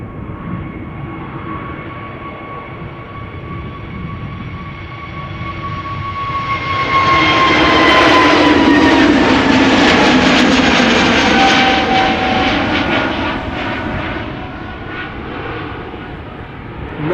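A red Airbus A320neo jet at Schiphol Airport roars past, its engine whine climbing to a loud peak at mid-passage and then fading slowly, with no talk over it.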